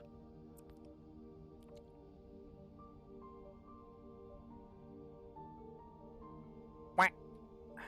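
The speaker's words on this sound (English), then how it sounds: "We end on a good quack." A single short duck-like quack pops out near the end over a steady, quiet tonal background during a Silksong playthrough.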